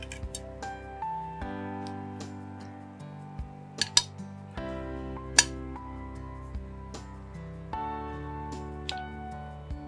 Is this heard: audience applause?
no